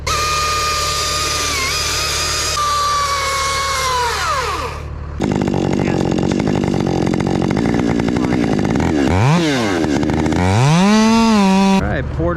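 A chainsaw ported by Redbeard Saws cuts through wood, the engine roaring loud and close with pitch sweeping up and down as it bogs in the cut and revs free, running continuously with no talk.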